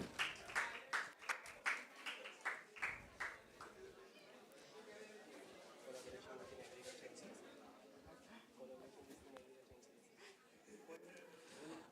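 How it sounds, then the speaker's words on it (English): Audience applause for the winners of an inter-college startup event, starting as loud clustered claps that soon blur into a steady crowd roar with voices mixed in. "A huge round of applause for our winners."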